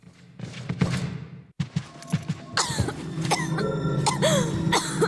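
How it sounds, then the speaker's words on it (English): Resident Evil 4 game character coughing up blood, wet coughs and throat-clearing sounds in a short burst with thuds, followed by game effects and brief tonal sweeps. "That is a ton of blood to be coughing up all at once"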